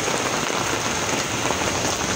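Steady heavy rain falls on surfaces outdoors, a dense, even hiss of close raindrops continuing without pause and with no voices.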